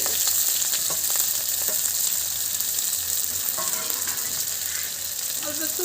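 An ash gourd filling with black cumin seeds and green chillies sautés in a hot pan, a loud continuous sizzle and fry with scattered stirring scrapes and clicks throughout.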